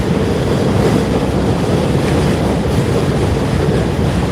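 A train rolling past near a river in Ohio, a loud continuous broadband rumble and rattle of wagons that stays close and steady throughout.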